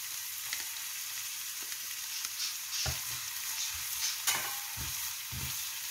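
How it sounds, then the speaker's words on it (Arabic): Garlic fries in a pan with a soft constant sizzle while a utensil stirs and scrapes in several distinct knocks and clatters, close and alone without talk. "الآن نضع الثوم"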